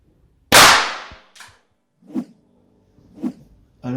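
One sharp, loud report as 15mm rubber steel ammunition is fired from a Bruni P4 with a flare-launcher adapter, followed by a click and two fainter dull knocks of handling in a quiet outdoor setting.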